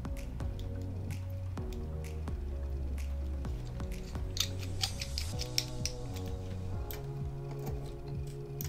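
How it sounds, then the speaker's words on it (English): Tiny screws are driven by hand into a Fitbit Versa 3 smartwatch during repair, giving a close, quiet series of irregular clicks, ticks and small scraping squeaks from the driver on the metal screws. "Take the screws, start putting all the screws in."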